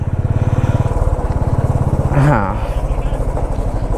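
A motorcycle engine idles with a fast, steady putter while the bike is parked at a roadside stop on a ride from Mumbai to Saputara, close and loud, with a brief spoken word midway.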